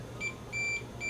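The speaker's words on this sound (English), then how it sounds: "If I measure this thing, I bet it's going to beep." A multimeter beeps in continuity mode while probing a switch from a vintage Silvertone console stereo: three steady, high electronic tones, each about a quarter second long, spaced evenly and clear over a quiet background.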